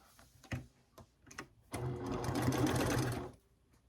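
A sewing machine sews quilt pieces together in one quick burst of fast needle chatter lasting under two seconds, preceded by a few clicks and soft handling taps.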